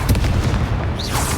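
Confringo blasting spell exploding in the Hogwarts Legacy video game, a short burst of booming impact with a rumbling low end and a brief whistling tail, loud and close.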